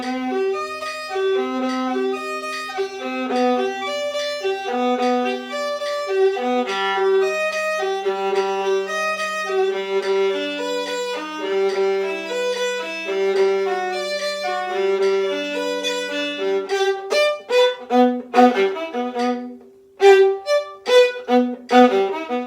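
A viola plays a Dvorak excerpt slowly at half speed with a metronome, with sustained, heavily accented bowed notes that grow into sharper, choppier strokes near the end, close and clear.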